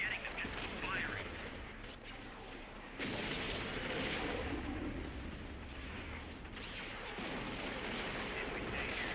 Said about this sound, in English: They're firing behind me.